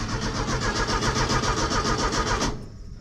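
A small engine, first started with the choke pulled, runs with a loud, close, steady chugging putter. It cuts off abruptly near the end, and there is no talking.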